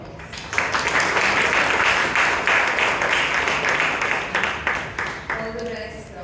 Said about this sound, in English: Let's give our evaluator and the speaker a huge round of applause